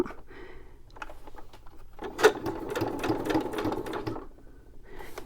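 A sewing machine stitches tags in a rapid mechanical burst lasting about two seconds, preceded and followed by quieter handling noises, close and fairly soft.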